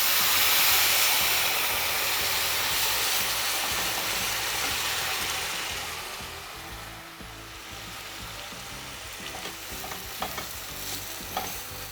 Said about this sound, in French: et là on va déglacer avec un peu de vin blanc